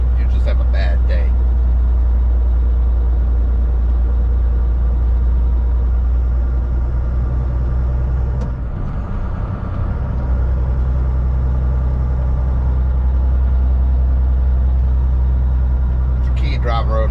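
A truck pulling a trailer rolls along a rough backwoods road with dipping curves, its engine a steady low rumble throughout and a brief louder jolt midway, while someone talks over the drive.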